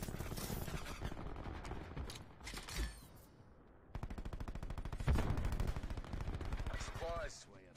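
Rapid bursts of automatic gunfire from the video game Black Ops 4, loud and close, with repeated rattling volleys and a brief lull midway, a voice talking faintly underneath.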